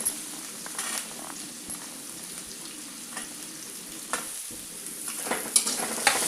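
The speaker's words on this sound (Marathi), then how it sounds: "आणि हे छान असं परतून घ्यायचं" Capsicum and peas with ginger-garlic paste are sautéed in a pan, producing a soft, steady sizzle broken by light scraping stirs and a few louder spatters near the end, with no talking.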